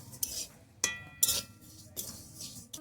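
Mung dal being lightly dry-roasted in a pan in a village kitchen, with a utensil giving soft, intermittent clinks and scrapes against the metal, quiet and close.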